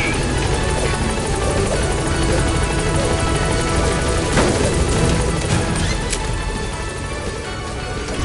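A helicopter arrives at a landing zone in Metal Gear Solid 5, its loud rotor roar and engine whine steady and close throughout, with a couple of brief thumps in the mix.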